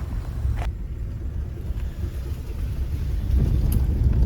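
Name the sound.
car driving into Kuldhara village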